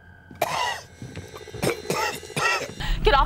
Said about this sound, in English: My cough. I had it before all this.